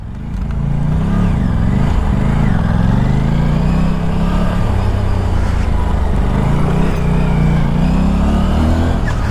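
An Aprilia RS 457 motorcycle is ridden in a loud, continuous engine drone heard up close. Its pitch rises and dips as the rider works through the revs, with wind rush over it.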